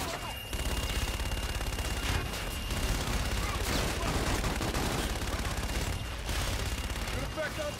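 Heavy sustained gunfire and explosions from an air-support gun run in the video game Call of Duty: Infinite Warfare, a loud continuous barrage of rapid shots and booms with radio voices talking over it.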